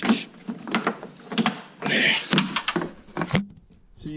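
Plastic headlight latch slider on a truck pushed up by hand, giving a cluster of close, small clicks and scraping plastic rubs over a few seconds, with a softer brief rustle in the middle.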